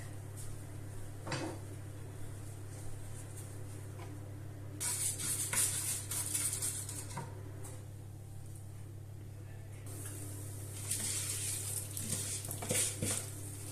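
Orzo toasts in oil in a pan on low heat, a soft steady sizzle rising in bursts as it is stirred, over a constant low hum with occasional clatter and faint speech.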